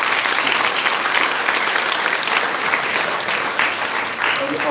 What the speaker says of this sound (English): once again I would like to give them a very big applause